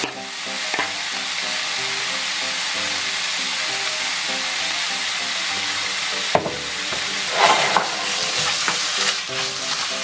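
Rice tossed and dry-roasted in a hot pan, with steady sizzling and repeated scraping of a utensil against the metal, loud and close, with a few sharper clacks near the end and no voices.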